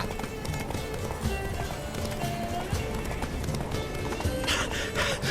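Geralt's horse Roach gallops in The Witcher 3, rapid hoof clip-clops drumming steadily and close, with game music and ambience underneath.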